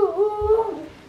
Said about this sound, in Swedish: Och vad säger hunden?